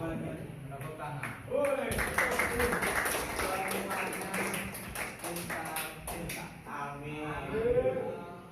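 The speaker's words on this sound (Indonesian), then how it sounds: "Tepuk tangan." A group of people claps during an Indonesian lesson or gathering, a loose patter of hand claps lasting several seconds at moderate volume while voices talk over and around it.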